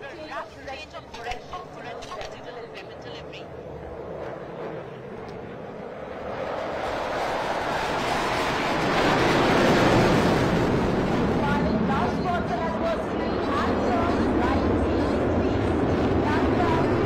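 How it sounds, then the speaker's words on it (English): Tejas light combat aircraft flying over Sukhna Lake at an air force display, its jet roar swelling from distant to a loud, sustained pass, with crowd chatter and a voice speaking over it. "तेजस की उड़ान और उसकी क्षमता का प्रदर्शन यहां सुखना लेक के ठीक ऊपर."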